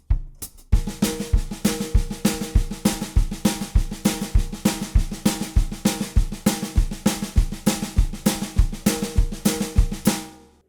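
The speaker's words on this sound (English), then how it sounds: "So it sort of means he's playing a left-handed double stroke roll with the right hand backbeat." Drum kit train beat built from a left-handed double stroke roll with a right-hand backbeat, played as a steady, driving pattern of close, crisp strokes with regular accents throughout, with no talking.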